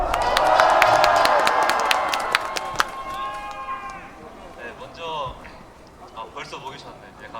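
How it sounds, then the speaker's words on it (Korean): A street crowd at a political rally near Anguk Station cheers and claps loudly for a youth speaker, the noise swelling at first then fading, with voices shouting and an amplified voice talking over it. "청년한테 큰 박수 한번 주세요!"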